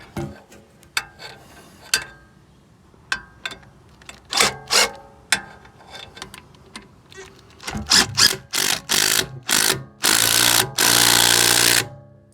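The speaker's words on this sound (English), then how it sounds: "Put this nut back on the bottom, 15 mil, and let's tighten that up." A 15 mm nut on a BMW E92 coilover tightened with a ratchet or impact tool, starting with scattered clicks and building to dense rapid bursts of loud mechanical rattling.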